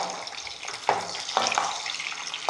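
Garlic and shallots frying in a pan for onion kuzhambu, a soft sizzle broken by a few sharper stirring scrapes, close and alone with no voices.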